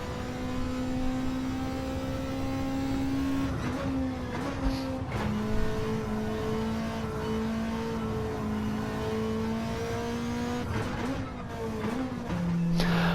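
A race car engine in a racing video game at Interlagos holds a steady, close, buzzing drone that shifts pitch as the throttle eases and rises again, with brief dips and a higher rev toward the end.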